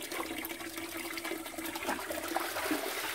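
Water runs steadily at an outdoor washing spot where clothes are washed by hand, a continuous close rushing, splashing flow with no talking.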